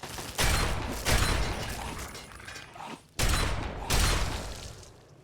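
Gunfire in Fallout 3: four sharp, loud blasts in two pairs, each trailing off in a ringing decay, with a brief quiet gap between the pairs.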